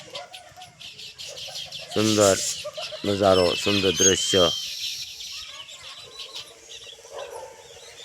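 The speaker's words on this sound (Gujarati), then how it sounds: "અસંખ્ય પંખીનો શોર" A flock of birds, chickens among them, clucks and calls loudly and continuously in a village setting, with bursts of rooster-like crowing near the microphone while someone speaks over them.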